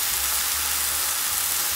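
Enoki mushrooms simmer and reduce in seasoning sauce in a pan, giving a steady soft sizzling hiss with faint low bubbling, close and continuous with no talk.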